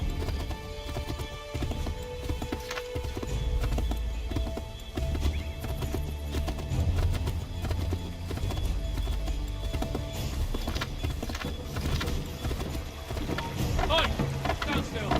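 Rhythmic hoofbeats of a ridden horse in a treasure-hunt video game, steady and close throughout, with occasional whinnies and a faint watery ambience under game music.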